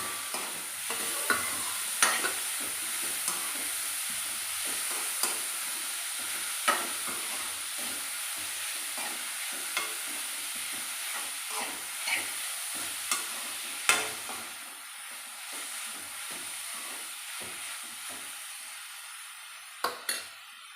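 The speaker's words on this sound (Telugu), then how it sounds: "పాట్కూర కూడా కొంచెం ఫ్రై అయింది ఇంకా టమాటా ముక్కలు వేసుకుంటున్నాను" Amaranth leaves and tomato pieces fry in a pan with a steady, bright sizzle, punctuated by regular clinks and scrapes of a spatula stirring close up, with no voices.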